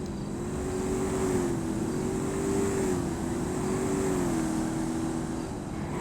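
Race cars in an Xbox racing game roar past as a steady, loud engine drone with a wavering pitch, continuous throughout with no talk over it.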